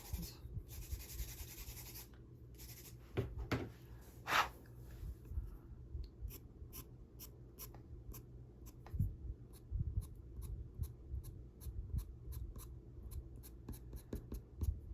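A light gold ochre pastel pencil scratches across paper in a hare drawing, soft irregular strokes close up, with sparse sharp clicks and quiet pauses between bursts, no talking.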